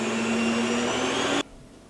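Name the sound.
mixer churning cream into butter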